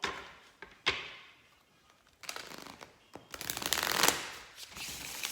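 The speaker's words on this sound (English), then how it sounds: "So we're gonna go ahead and just pull 3 cards if possible." Tarot cards are shuffled and drawn by hand, giving bursts of riffling and sliding card noise between quiet pauses, with one louder flurry of shuffling toward the end and no speech.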